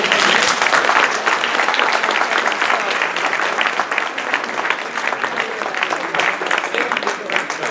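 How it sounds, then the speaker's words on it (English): Audience applause at a town supervisor candidate debate at a civic association, strong at first and gradually thinning, with a voice faintly audible under the clapping. "A round of applause."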